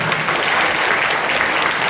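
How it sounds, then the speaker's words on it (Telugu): An audience claps steadily through a saree distribution event at a camp office in Munugode, a dense, continuous round of applause that holds at an even level from start to finish with no voices rising above it. "అందుకని అందరూ చప్పట్లు పెట్టారు"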